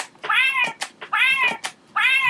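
A person imitates a cat, giving three drawn-out, whiny meows in a steady rhythm, loud and close, with short pauses between them.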